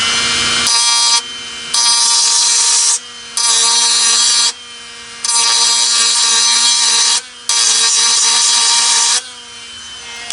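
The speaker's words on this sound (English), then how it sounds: "I just have to cut into this part of the subframe a little bit to get there." A power cutting tool grinds into the steel subframe of a 2017 Dodge Durango GT AWD 3.6L during a fuel pump replacement, running in loud, close bursts of a few seconds each with short pauses between.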